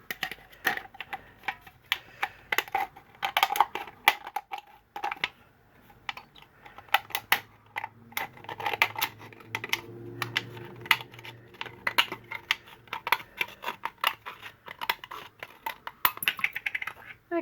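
Aluminium from a soda can being cut with metal dies, giving rapid irregular clicks and tapping at close range, continuous and fairly quiet with no voices.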